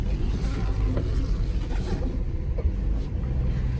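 A 2009 Jeep Wrangler JK on big tires turns through a slow U-turn, a loud, steady engine drone and road rumble heard from inside the cab, with no voices.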